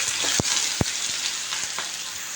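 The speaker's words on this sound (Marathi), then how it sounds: "दोन ते तीन कांदे छोटे छोटे मी चिरून घेतलेत ते ह्याच्यामध्ये टाकून भाजून घ्यायचे" Chopped onions frying in oil in a kadhai give a steady, close sizzle, with two sharp spoon knocks early on and softer stirring taps after.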